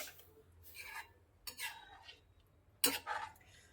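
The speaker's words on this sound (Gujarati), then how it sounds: "રોટલા નાખેલા છે એટલે છાશ ફાટશે નહીં, પણ છાશને હલાવતા રહેશો તો સારું." Buttermilk with pieces of rotla being stirred in a pot, three distinct bursts of a spoon scraping and clinking against the metal, separated by quiet pauses, close and clear with no talking.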